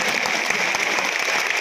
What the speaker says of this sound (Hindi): बजाते रहिए ताली।